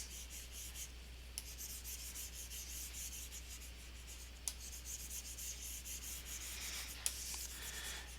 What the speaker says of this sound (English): if you hear that noise, that's me picking up the brush